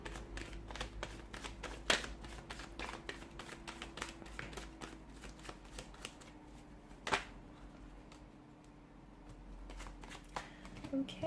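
Tarot cards being shuffled by hand, a steady run of quiet crisp riffles and flicks with occasional louder slaps, close and intimate, continuing for several seconds with a faint background hum.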